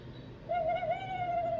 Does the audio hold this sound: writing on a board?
no